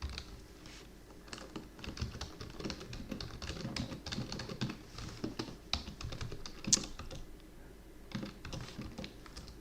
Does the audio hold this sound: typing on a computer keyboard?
yes